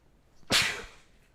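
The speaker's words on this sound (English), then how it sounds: "I felt that sneeze coming for like 3 minutes" A single sharp sneeze bursts out once, close and loud, then trails off into quiet room tone.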